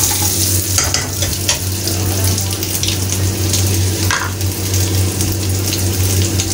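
A cook frying paneer in a busy kitchen makes a loud, continuous sizzle with occasional stirring clatter over a steady low hum.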